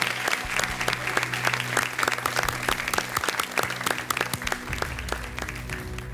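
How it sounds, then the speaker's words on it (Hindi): Studio audience on the Kaun Banega Crorepati game show applauding to welcome a guest named Amol ji, sharp rhythmic clapping from many hands, loud and close, over a low musical drone that shifts near the end. "तालियों के साथ हम इनका स्वागत करते हैं"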